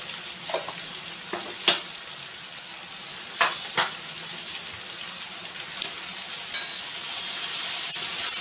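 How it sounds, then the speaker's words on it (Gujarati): Okra frying with spices in a pan, a continuous close sizzle broken by several sharp clinks and scrapes as it is stirred. "હવે આપણે એને હલાવી લઈશું"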